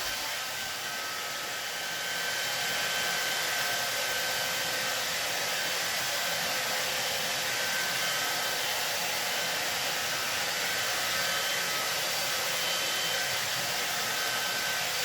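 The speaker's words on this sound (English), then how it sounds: "Depending on the thickness of your hair will determine how long you have to actually blow dry it." A hair dryer blasts a loud, steady, even whoosh at close range throughout while someone blow-dries hair during a self-haircut at home, with no talking.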